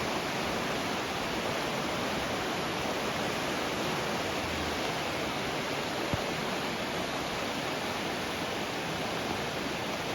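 Strong river current rushing steadily near a log house, a dense, constant roar of water with no pauses, loud and close throughout.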